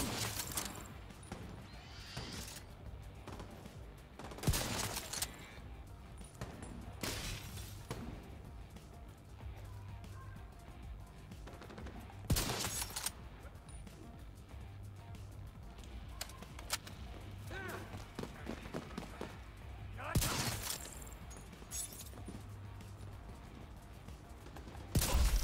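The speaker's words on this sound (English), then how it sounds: "It's kind of fun to blind fire, though. I mean, those are easy blind fire shots." Gunfire from blind firing in The Division 2 cracks out in sharp shots every few seconds, spaced irregularly over a steady bed of quieter game ambience.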